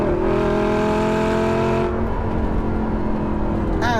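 Lamborghini 550/2 Valentino Balboni engine bellowing at full throttle, a loud, close, rising roar that climbs sharply then breaks off into a rougher rumble as the revs change.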